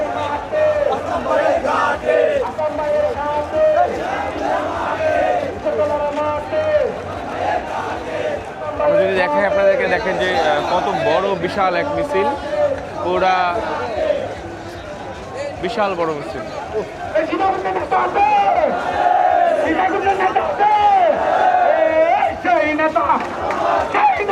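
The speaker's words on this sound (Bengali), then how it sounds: "বড় একটা বিএনপির মিছিল যাচ্ছে" A large BNP political rally procession marches through Sitakunda, Chittagong, its crowd chanting and shouting slogans loudly and continuously, with dense overlapping voices throughout.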